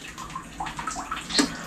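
Water splashes and pours in irregular bursts as someone bathes outdoors in cold weather, close by and fairly quiet, with a sharper splash near the end.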